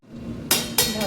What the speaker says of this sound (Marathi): झाकण ठेवूया